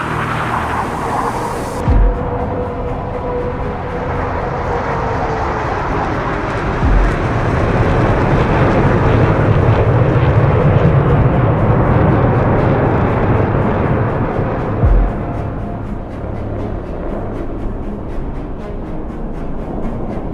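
X51 aerobatic display aircraft fly overhead at the VIAF 2023 airshow, a loud, continuous engine roar that swells as they pass and slowly fades away over about twenty seconds.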